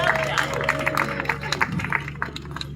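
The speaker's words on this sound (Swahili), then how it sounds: "Makofi." Applause from a gathered crowd at an awards ceremony for a 10 km men's run, steady moderate clapping throughout with a speaking voice over it.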